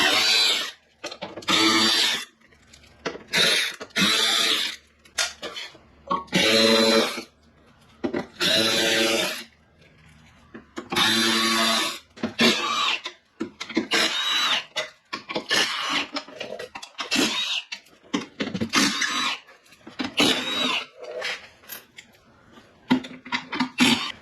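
A power tool spins out screws from the stiffening plate under a BMW, in short repeated bursts with pauses between, close and loud, with clicks and handling noises in the gaps.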